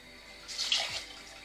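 A brief pour of water into a pot for sushi rice, a short soft splashing gush lasting under a second in a quiet kitchen, no talking.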